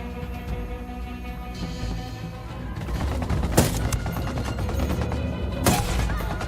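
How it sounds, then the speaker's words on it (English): Gunfire in Ghost Recon Wildlands, a sustained fusillade of rapid shots that thickens midway, with sharp louder cracks standing out amid steady automatic fire and low rumble, close and loud throughout. "Opening fire on these fuckers."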